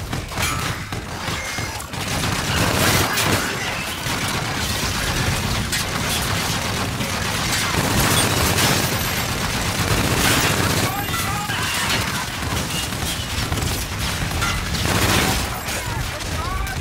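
Dense gunfire, with rapid bursts and booms, keeps going through a combat scene in the video game Call of Duty: Infinite Warfare, while radio-style voices talk over it.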